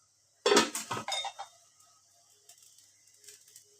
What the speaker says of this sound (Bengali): এখন আমি ঢাকনা দিয়ে ডেকে দিব।